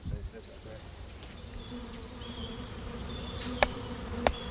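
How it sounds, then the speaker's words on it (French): Flies buzz steadily around a person's face outdoors at a body farm, a thin continuous drone with a couple of sharp clicks near the end. "La seule chose qui me dérange vraiment, ce sont les mouches partout sur mon visage."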